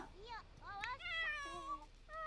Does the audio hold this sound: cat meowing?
yes